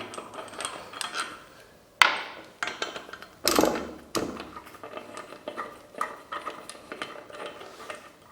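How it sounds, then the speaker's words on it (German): Wheel nuts or bolts being loosened on a BMW motorcycle's four-hole rear wheel with a homemade tool, giving sharp metallic clanks and knocks, a few loud strikes, and lighter clicks and taps in between. "jetzt können wir die anderen beiden Radmuttern lösen, Radschrauben lösen."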